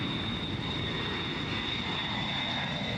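A 1960 B-52 bomber's engines give a steady, loud jet roar with a high whine over a broad rumble, continuous throughout with no voices.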